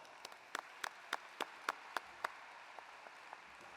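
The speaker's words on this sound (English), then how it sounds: "Let's give all of our winners another round of applause." An audience at a state FFA convention applauds prize winners, but it sounds like only a few people clapping: sparse, evenly spaced claps, faint and from a distance in a quiet hall, with no voices.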